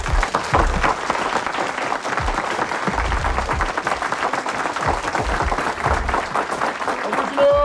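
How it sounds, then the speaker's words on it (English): A crowd bursts into steady, sustained applause, dense clapping filling the space with a few cheers and voices mixed in throughout. "we want to receive with a rousing round of applause"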